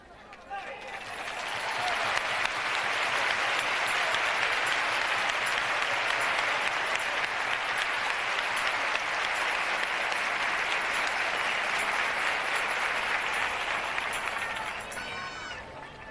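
Sustained audience applause during a podcast recording about hermandades and rocieros, a thick wash of clapping that swells in, holds steady for over ten seconds, then tapers.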